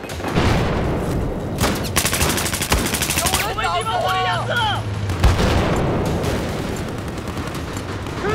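Rapid bursts of automatic gunfire from an Ace-52 CQB rifle in Battlefield 4 close-quarters combat, loud and dense with overlapping shots and booms.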